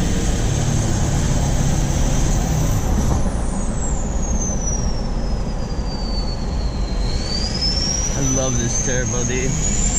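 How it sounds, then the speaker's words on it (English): A car with a bigger turbo, ported heads and a custom street tune whooshes loudly as the turbo spools, a rising then falling whistle over steady engine roar, close by, with a voice briefly audible. "Turbo, dude."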